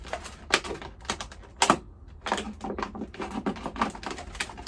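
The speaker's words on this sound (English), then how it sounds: "cut all the way around, keeping fingers well out of the way of the blade." A blade cutting all the way around a plastic container for a homemade window propagator, giving a run of close, sharp clicking and scraping strokes in an irregular rhythm.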